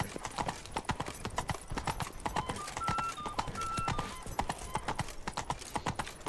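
Hooves of the horse Roach trotting in The Witcher 3: Blood and Wine, a fast, even clip-clop rhythm close by and continuous, with a few faint tonal game sounds in the background.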